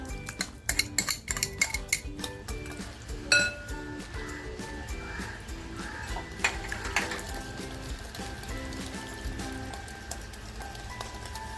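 Curd is whisked into chicken masala for butter chicken in a pan, quick rapid clinks of a utensil against metal at first, then softer scraping and occasional taps over a low background hum.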